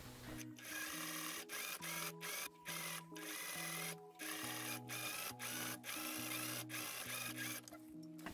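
A sewing machine top stitches a corduroy dress in a series of short whirring runs broken by frequent brief stops, close but fairly quiet.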